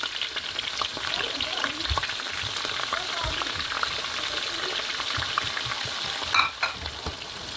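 Sliced onion sizzles and fries in hot oil in a home cooking pot for stew, a steady crackling hiss with occasional stirring scrapes and a brief clatter near the end.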